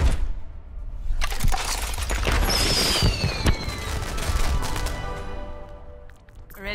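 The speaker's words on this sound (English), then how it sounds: "Ready for some fireworks?" Fireworks burst during a Lunar New Year lootbox opening in a video game: a loud, dense run of crackling pops and shattering bangs, with bright whistling streaks, continuing throughout.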